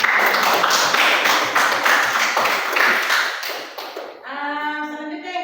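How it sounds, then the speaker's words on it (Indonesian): A group claps together in a brisk burst of applause for several seconds, then it fades out, leaving a brief ringing tone. "Ya, tepuk tangan."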